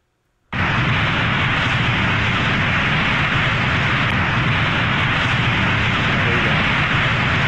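A jet engine in the PC game Happy Wheels switches on suddenly and then roars as a loud, steady rushing blast that continues without a break to the end.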